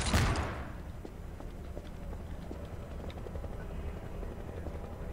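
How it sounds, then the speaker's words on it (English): A helicopter approaches in the game Garry's Mod, a steady, low rotor rumble that holds throughout, with a sharp burst at the very start and faint clicks and knocks over it. "Wait a minute, is that a chopper?"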